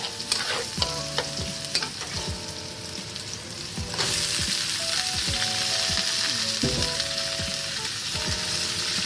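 Chopped vegetables with garlic, chilli and onion fry in a hot pan for veg chowmein, under a loud steady sizzle with frequent clattering scrapes of the spatula stirring and tossing, and the sizzle rises partway through.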